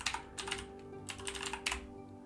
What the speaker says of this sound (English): So let's type in Northborn here.